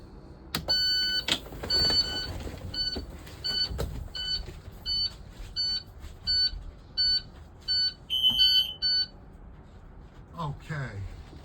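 Repeating electronic beeps of a school bus alarm sound in short regular bursts, joined by clicks and a few clunks, before falling silent near the end.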